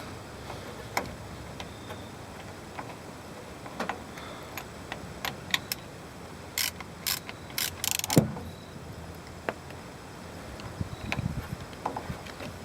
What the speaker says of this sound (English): And now we'll screw the fill plug back in.